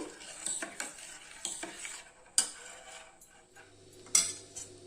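A spoon stirs sathu maavu porridge in a pot with soft scraping strokes and faint bubbling, broken by a few sharp metallic clinks against the rim.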